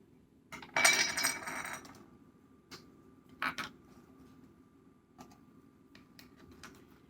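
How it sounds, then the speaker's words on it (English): Sweetener and cinnamon being stirred together in a bowl, giving a quick burst of clinking and scraping followed by a few sparse, faint taps and clicks. "You're just going to mix those together."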